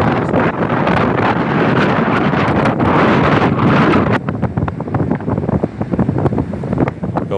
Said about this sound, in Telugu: విజయనగరం జిల్లాలో ఈదురు గాలులు భీభత్సం సృష్టిస్తున్నాయి